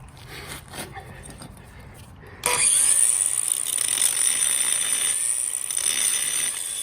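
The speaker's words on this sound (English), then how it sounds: "We're going to grind this last one." A grinder cuts into a steel rivet on an aluminum C4 Corvette control arm, starting abruptly after a quiet stretch and holding a loud, steady high-pitched whine with a shrill squeal to the end.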